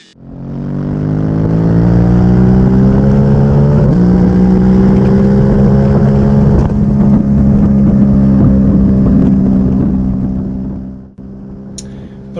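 A motorcycle with an Akrapovic exhaust revs under throttle close by, a loud, deep engine note that rises in pitch, holds steady for several seconds, then drops away abruptly.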